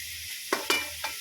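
Mung bean dish with shrimp sautéing in a pan: a steady background sizzle with a few short stirring scrapes and clatters, no talking.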